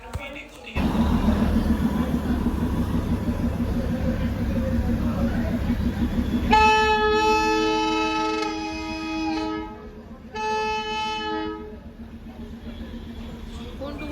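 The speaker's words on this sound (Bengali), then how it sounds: "গাইস টয় ট্রেন এসে গেছে, দেখতে পাচ্ছ?" The Darjeeling toy train pulls into the station, its engine rumbling steadily and then two long loud horn blasts sounding close by with a short gap between them, while people talk in the background.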